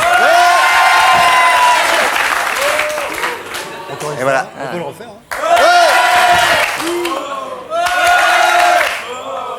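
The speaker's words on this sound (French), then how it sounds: "Quand il veut que les gens applaudissent, il fait ça." A TV studio audience bursts into applause and cheering on the warm-up man's cue, in two loud swells separated by a brief dip, while someone speaks over the noise.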